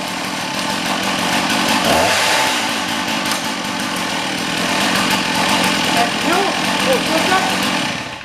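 A small gas engine on wildfire equipment running steadily after a choked start, a loud continuous buzzing drone close by, with a person talking over it.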